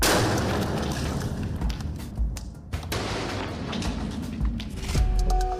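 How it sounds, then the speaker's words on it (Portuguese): Military police in Brasília set off a controlled, lower-harm explosion as a demonstration, heard as sharp booms and heavy thumps that stand out over a noisy, rumbling background. "a Polícia Militar do DF fez uma demonstração de uma explosão controlada com menor potencial lesivo"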